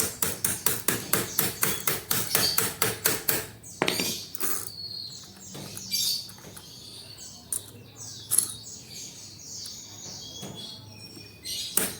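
A nail is hammered to tighten the rear sprocket of a child's bicycle: a fast run of about a dozen loud metallic taps, then sparser scattered knocks and clinks.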